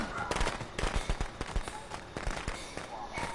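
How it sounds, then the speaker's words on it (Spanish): Rapid bursts of firecrackers popping inside the Friday the 13th video game, a dense crackling string of sharp bangs through most of the short stretch, with game ambience behind. "¿Por qué tira petardos?"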